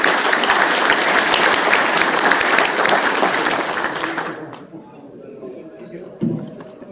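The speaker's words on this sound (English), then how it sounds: "let's give everyone a big round of applause" Forum audience gives a big round of applause at the close of a presentation, loud sustained clapping for about four seconds that fades out, followed by quiet room tone and a brief thump.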